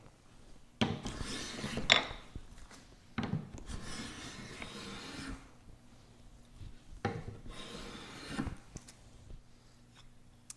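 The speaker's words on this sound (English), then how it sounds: "I'm going to keep working on it, planing the flats, and if I have to, replaning the curve as well, until it fits into its mortise." A hand plane shaves a wooden part of a French marking gauge to fit its mortise, producing faint, close strokes of rasping wood in separate passes with quiet pauses between.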